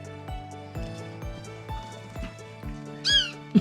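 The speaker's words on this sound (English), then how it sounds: "It's a cat fight." House cats scuffle, with one sharp, short yowl near the end rising over a steady, rhythmic mechanical pulsing in the background.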